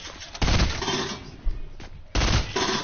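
Gunfire in a PS4 online shooter match: rapid, loud bursts of automatic shots in a dense, continuous volley, with a sharper burst near the end, up close and heard alone.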